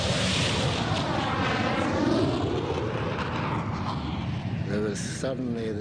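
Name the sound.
Argentine Air Force attack aircraft flying overhead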